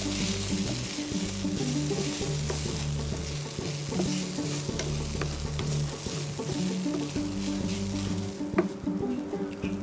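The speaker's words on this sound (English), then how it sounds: "This will be around 350 grams of boiled potatoes I've taken. I'm going to mix it nicely." About 350 grams of boiled potatoes are mixed in a hot pan for a vada pav filling, a continuous close sizzle with soft stirring scrapes, steady throughout with no voices.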